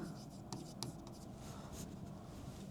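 A pen scratches across paper in short strokes and taps while probability notation is written out by hand, quiet and close, with soft speech underneath.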